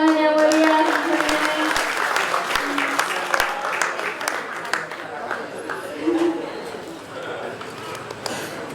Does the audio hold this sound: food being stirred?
no